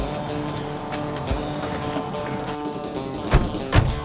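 A 1957 Chevrolet Bel Air car door slams shut twice in quick succession. Each is a solid, heavy thunk close by, heard over a steady low rumble.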